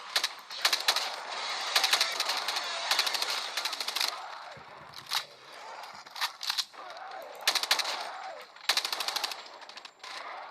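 AK rifle fire in Call of Duty Mobile rings out in rapid automatic bursts, loud and sharp, separated by short pauses, with brief game sounds between volleys.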